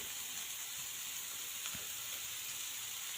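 Green beans and potato pieces sauté in a pan, giving a steady, quiet sizzle with faint stirring that stays even throughout.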